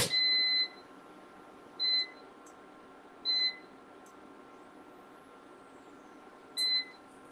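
An air fryer in a kitchen gives four short, high electronic beeps, spaced unevenly and fairly close, over a quiet background.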